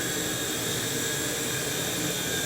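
A small T-Rex 100X RC helicopter flies nearby with a steady, high, whining rotor-and-motor buzz, constant and unbroken throughout.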